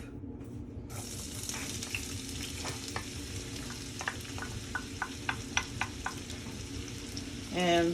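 Onion sautéing in a pan for Cuban black beans, a constant soft sizzle with a series of light ticks and scrapes, and a brief word spoken over it.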